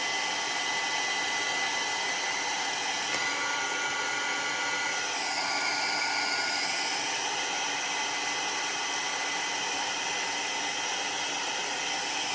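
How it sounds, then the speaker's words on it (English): Heat embossing gun drying paint on a salt dough Christmas ornament, a steady close blowing hiss and fan whine that holds for the whole stretch with slight shifts in tone. "This is a heat embossed gun"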